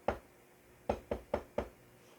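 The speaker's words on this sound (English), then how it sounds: "the Scatman goes knocking on everybody's door" Five knocks on a door, one isolated rap followed by a quick run of four evenly spaced ones, close and fairly quiet in an otherwise still room.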